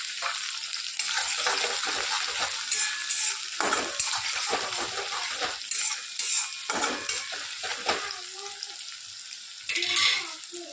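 Green chilies and green garlic sizzle in hot oil in a pan, with a steady frying hiss and a spoon stirring and scraping through the pan at close range.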